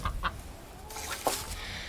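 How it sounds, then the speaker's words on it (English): A few short, faint squawks from a duck hen outdoors at night, spaced apart over quiet outdoor background noise. "She just sits out there and squawks for them into the dark."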